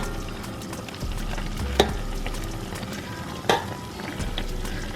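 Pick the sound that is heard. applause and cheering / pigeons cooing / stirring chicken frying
stirring chicken frying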